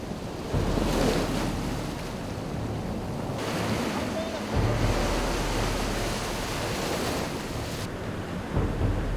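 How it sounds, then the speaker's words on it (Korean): Rough winter sea waves surge and crash off the coast near Donghae, a steady loud roar of surf mixed with heavy wind buffeting the microphone, with no voices. "몸을 가누기 힘들 정도로 파도가 거세다."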